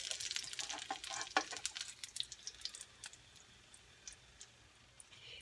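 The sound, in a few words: frying Mexican egg rolls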